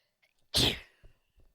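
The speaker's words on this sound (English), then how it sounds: "Hang on, guys, I'm gonna sneeze." One loud, close human sneeze bursts out sharply and fades into a brief breathy exhale, followed by faint small noises.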